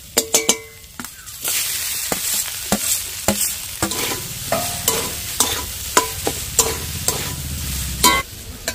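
Beetroot and carrot sizzle in a pan while a spatula scrapes and taps repeatedly against the metal in an irregular stirring rhythm.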